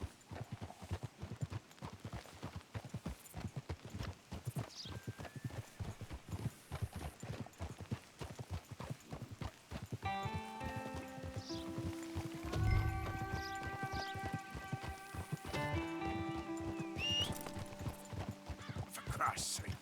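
Horse hooves clip-clopping steadily along a trail in the game Red Dead Redemption 2, a rhythmic close gait throughout, with a brief whinny and game music coming in partway through.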